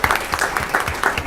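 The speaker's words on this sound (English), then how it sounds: "So round of applause for you guys." Audience applauding high school singers at a city council meeting, a brief burst of dense, steady clapping at moderate loudness.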